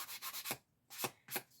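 A sanding block scuffs the printed surface of a paper picture in three rough, close rubbing strokes, the first a longer rapid back-and-forth, then two shorter passes after a brief silence.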